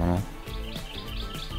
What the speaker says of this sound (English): I felt like Cinderella, waking up and hearing birds chirping.